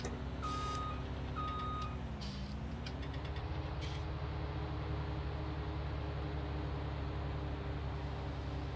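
Truck in Farming Simulator 19 slowing down with a brief air-brake hiss and reversing-style beeps over a steady engine drone, alone, with no talking.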